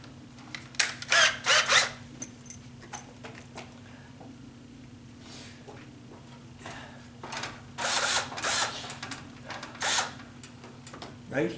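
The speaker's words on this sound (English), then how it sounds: "Get my drill bit on here." A power drill with a bit fitted drills into the corner of a sagging exterior glass door, sounding in several short whirring bursts separated by pauses, close up, with a steady low hum running underneath.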